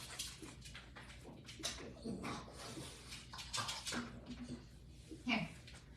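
A dog whimpers and whines softly in a room, with scattered faint yelps and shuffling, mixed with quiet human talk and low background noise.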